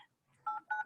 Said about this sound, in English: Somebody may be dialing in on us.